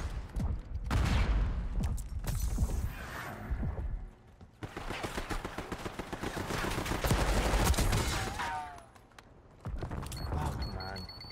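Automatic gunfire in the Black Ops 6 video game comes in rapid bursts of rattling shots with brief pauses between them, loud and close, mixed with other game sounds, and a player speaks over it.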